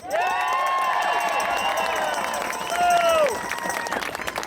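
A rally crowd at an end-the-lockdown gathering in Brantford applauds and cheers for a speaker being introduced, a sustained wash of clapping and shouts with whistle-like tones rising over it.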